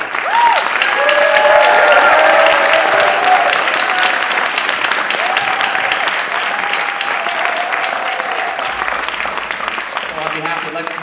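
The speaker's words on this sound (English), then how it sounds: "Thank you to all candidates. Give them a round of applause," Loud, sustained applause from an audience for student presidential debate candidates, dense clapping with a few cheers and voices rising through it, easing slightly over eleven seconds.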